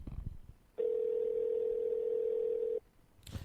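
A telephone dial tone sounds during an attempted call on a radio show: one steady, unbroken tone lasting about two seconds, quiet before and after.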